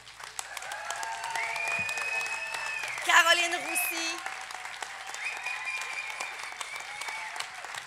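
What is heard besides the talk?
audience applauding the show team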